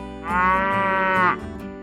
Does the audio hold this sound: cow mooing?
yes